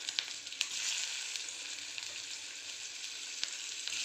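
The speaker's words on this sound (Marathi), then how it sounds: "सर्व भेंड्या आपण त्यात टाकून घेतलेल्या आहेत" Okra sizzling steadily in hot oil seasoned with cumin and asafoetida for a masala bhindi, a dense continuous crackle close by with a few sharper pops, no voices.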